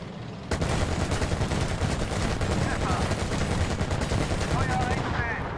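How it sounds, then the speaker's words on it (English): A BMP-2's autocannon fires in a tank combat video game, a sustained dense barrage of rapid shots that sounds loud and continuous, with faint voice-like traces underneath. "Now, just fire at the turret ring and hope you get that lucky hit."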